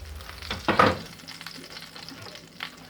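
A steak fries in butter in a hot pan, crackling close up with a loud sizzling burst near the start that settles into softer spitting.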